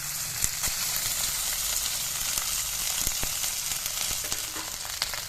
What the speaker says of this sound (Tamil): இப்போ கடலையெல்லாம் வறுப்பட்ட சாதத்தை போட்டு அதில் போட்டு கலந்துக்கிறேன்